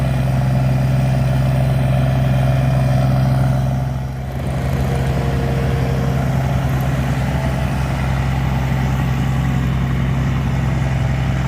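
A skid steer's diesel engine idles and revs steadily close by while loading logs onto a truck, giving a low continuous droning hum with a brief dip in power midway before settling back to a steady rumble.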